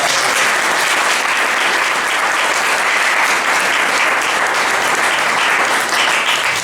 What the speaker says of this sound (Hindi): आइए हम उनका भी ताली बजाकर